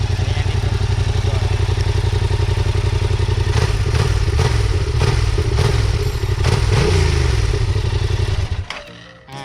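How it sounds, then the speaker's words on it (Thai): Yamaha MT-07 motorcycle exhaust with a straight-through pipe, a loud, deep steady idle rumble close by with a few blips, then cutting off near the end. "เสียงท่อกับตัวใหม่ตัวเก่าไม่เหมือนกัน"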